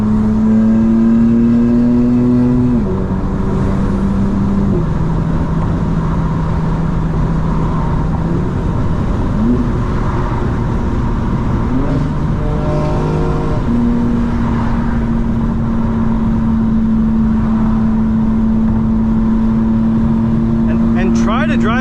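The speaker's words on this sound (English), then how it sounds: "Let's get a little bit of exhaust noise from the windows down a little bit" A BMW M4 exhaust drones through open windows during a night drive, the engine note rising and shifting with gear changes and steady acceleration, loud and close inside the cabin.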